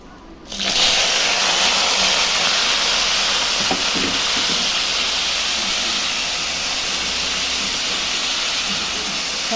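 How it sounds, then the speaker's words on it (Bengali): Vegetables hit hot oil tempered with whole spices and erupt into a loud, steady sizzle. The hiss starts abruptly and holds strong and close throughout, with faint clatters of stirring underneath. "আমার ফোড়নটা দেওয়া হয়ে গেছে, এখন আমি সবজিটা ঢেলে দেবো।"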